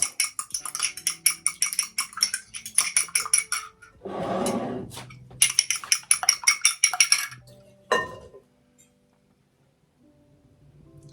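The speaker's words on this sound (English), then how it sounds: "I'm going to take my egg and add it right into this bowl here. Give it a good mix." An egg being whisked in a bowl, rapid rhythmic clinking of utensil against the bowl in quick bursts, broken by a short scraping pause and a final clink before silence.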